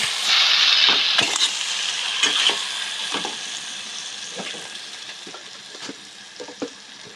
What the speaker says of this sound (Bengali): কচু শাকের সাথে বাদবাকি উপকরণগুলো ভালো করে নাড়িয়ে নেব